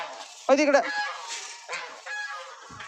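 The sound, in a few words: chickens clucking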